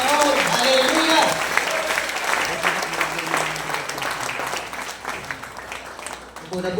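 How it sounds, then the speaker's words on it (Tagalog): A church congregation claps for the Lord in a loud burst that gradually thins into scattered claps, with a preacher's voice and brief music heard over the start. "ibigay natin yung palakpak para sa Panginoon"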